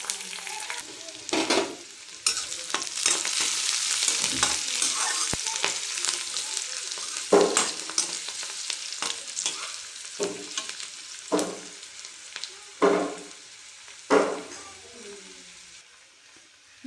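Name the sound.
frying green chili and dried red chili in oil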